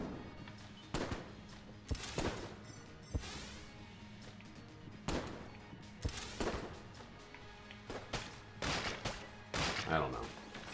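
Bursts of gunfire in the video game Enter the Gungeon, rapid clusters of sharp shots and impacts scattered throughout, moderately quiet, with a voice talking over them at times.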